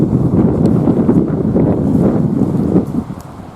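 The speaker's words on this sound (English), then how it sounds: "There's a lot of wind" Strong spring wind on a sunny beach on Andøya, Norway, buffeting the microphone in a loud, continuous low roar that eases slightly toward the end.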